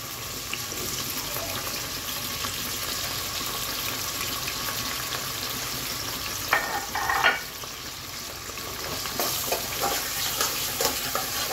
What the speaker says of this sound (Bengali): একটু ভেজে নিব জাস্ট পেঁয়াজটা।